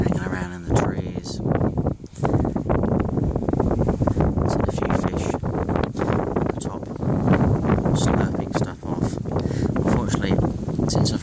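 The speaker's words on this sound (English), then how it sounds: "the wind's picked up, it's in the same direction" Strong wind gusts across an open lake on a grey day, a steady loud rushing roar with buffeting against the microphone throughout.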